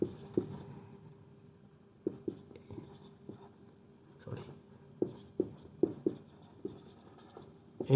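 Chalk or pen writing on a board during a physics lesson, heard as a series of scattered taps and short scratching strokes at irregular intervals, fairly close and moderately faint with no talking.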